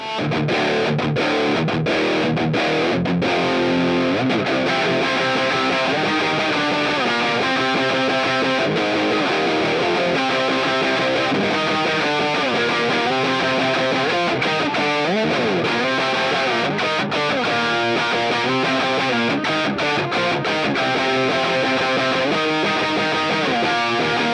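Electric guitar played through a Hotone Ampero Mini with a Boss SD-1 style overdrive boost, gritty sustained distorted chords and riffs ringing continuously at a loud, even level.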